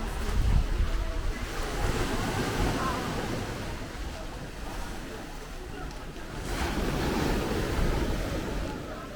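Sea waves wash onto a beach in a steady broadband roar with gusty wind on the microphone, swelling again near the end; voices are faintly present.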